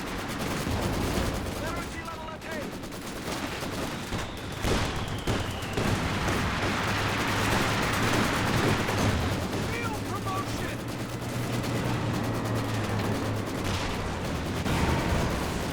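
A half-track's machine gun lays down suppressing fire in Company of Heroes 2, dense rattling bursts blending with other gunfire and booms in a loud, continuous battle soundscape.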